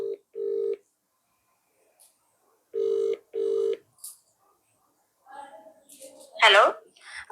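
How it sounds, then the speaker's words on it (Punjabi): Telephone ringback tone heard while placing a call: two pairs of steady buzzing double rings, clear and fairly loud, followed by a voice starting to talk. "ਚੱਲ ਆਪਾਂ ਸਰਵਜੀਤ ਨੂੰ ਫੋਨ ਲਾ ਲੈਨੇ"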